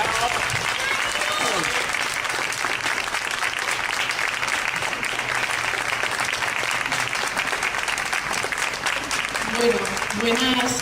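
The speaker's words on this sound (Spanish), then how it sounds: "Un fuerte aplauso." Steady, loud applause fills a political rally for Podemos-Equo in Calatayud, unbroken throughout, with a voice briefly audible near the end.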